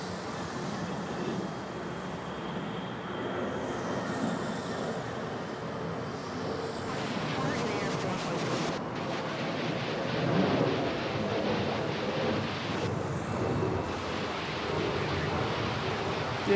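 A Philippine Airlines airliner bound for Iloilo at Manila Airport produces a continuous, rumbling engine roar that swells slightly midway, heard at a distance as a dense wash of sound with no talk.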